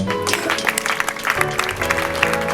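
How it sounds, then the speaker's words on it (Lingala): At a funeral service, a congregation applauds in steady, dense clapping that runs through the whole moment, with faint voices underneath. "Est-ce qu'on peut applaudir le Seigneur?"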